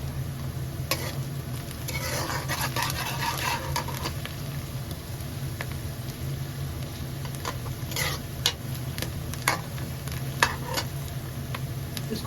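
Onions browning in a pan with turmeric and red chilli give a soft, continuous sizzle under a low steady hum, with scattered ticks and scrapes of stirring, close up and without speech.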